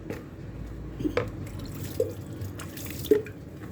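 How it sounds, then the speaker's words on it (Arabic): Water poured from a glass onto couscous makes soft splashes and a few distinct drips and plops over a quiet liquid trickle, close and fairly faint. "ندير الماء"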